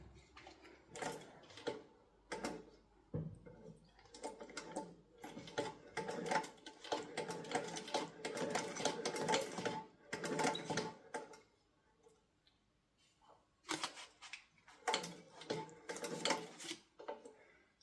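A Singer 29K51 industrial sewing machine, freshly oiled after years stuck, running in several bursts of rapid mechanical clatter with short pauses between, close and fairly loud.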